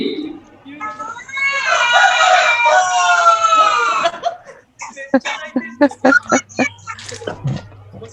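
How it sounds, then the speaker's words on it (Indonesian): A rooster crows one long, loud, close cock-a-doodle-doo, followed by people talking and coughing nearby. "Suara koko ayamnya mantap sekali."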